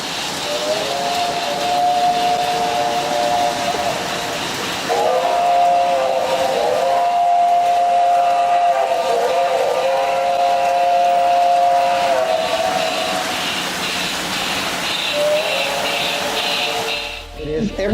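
Steady mechanical running hum with a long, sustained whistle-like tone sounding repeatedly across the clip, like model trains circling a layout, continuous and fairly loud.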